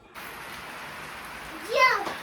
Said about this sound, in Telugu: బయట అయితే ఇప్పుడే వర్షం స్టార్ట్ వర్షం పడతా ఉంది